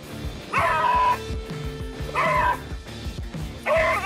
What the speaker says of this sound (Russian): Я бы не хотел, чтобы мой дом охранял настолько пугливый пес.